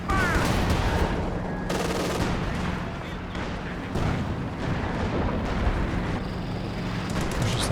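Artillery barrage and gunfire in the strategy game Company of Heroes 2, with repeated booming impacts and crackling small-arms bursts layered densely throughout, as a commentator talks over the battle.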